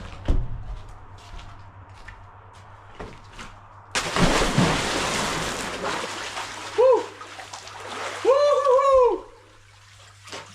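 Water splashes and sloshes in a bath, with a burst of splashing midway and trickling after, close to the microphone, while people talk and exclaim nearby.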